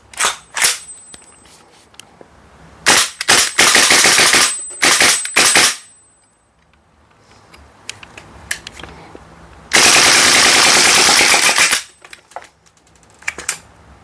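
Gas-powered airsoft AKMN carbine firing full auto, loud rapid bursts of sharp cracking shots in several strings, with brief pauses and a longer sustained burst, plus handling clicks between.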